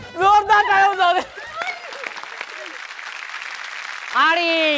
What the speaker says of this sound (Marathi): जोरदार टाळ्या जाऊ दे